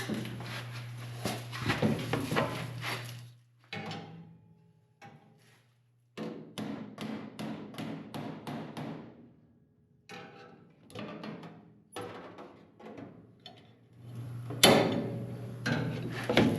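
Sharp metallic hammer strikes on car wheel-well repair sheet metal come in bursts, some spaced apart and some in quick runs, with quiet gaps and a low hum between them.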